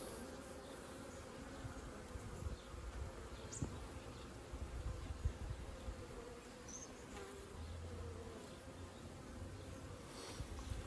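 Carniolan honey bees buzz steadily inside a mini nuc hive, a dense continuous drone with a few brief closer passes over it.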